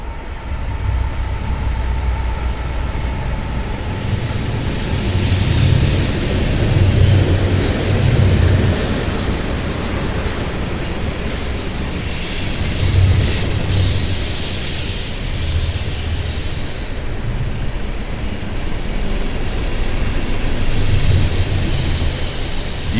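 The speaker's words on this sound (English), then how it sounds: "There's another train coming" A train rolls past at close range, a loud, sustained rumble with rhythmic wheel clatter and metallic screeching that swells and eases in waves over more than twenty seconds, with no voices over it.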